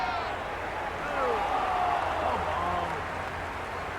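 A stadium crowd in the cricket game Cricket 26 at an Ashes match gives a steady, distant roar and murmur of applause throughout, swelling slightly midway, with commentary talk over it.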